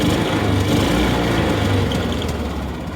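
The engine of a derelict John Deere Gator utility vehicle runs at steady high revs, a loud, close, continuous drone with no talk over it.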